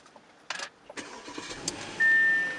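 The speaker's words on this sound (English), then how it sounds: "press the start button right here with my foot on the brake" A 2012 Audi A8 L is started by its push button: a few faint clicks and a short starter whir, then the engine catches and settles into a quiet, steady idle close by inside the cabin.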